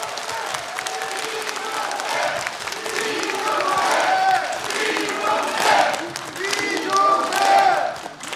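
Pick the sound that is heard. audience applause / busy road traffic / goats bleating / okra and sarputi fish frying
audience applause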